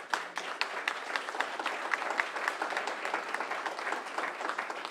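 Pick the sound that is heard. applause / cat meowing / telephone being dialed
applause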